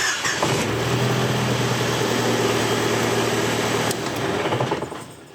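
A vehicle engine cranks and catches, then runs loud and steady at close range for several seconds before tapering off near the end.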